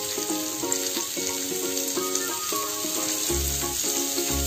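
Potatoes fry in a pan with a continuous hissing sizzle and soft stirring, heard beneath a melodic background music track.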